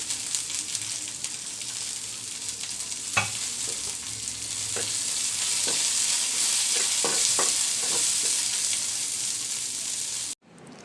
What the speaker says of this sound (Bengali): আমার পেঁয়াজ রসুন মরিচ আমার ভাজা হয়ে গেছে